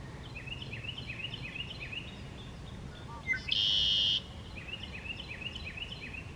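Red-winged blackbirds calling in a forest on an April morning hike, a series of fairly faint repeated chattering calls over outdoor ambience, broken midway by one louder, steadier sustained tone.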